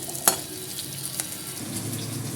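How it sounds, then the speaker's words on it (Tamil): Shallots sautéing in a pan give a steady close sizzle with a sharp utensil scrape near the start and another lighter one later, the frying hiss broadening toward the end. "சின்ன வெங்காயம் சேர்த்து நல்லா வதக்கிக்கலாம்"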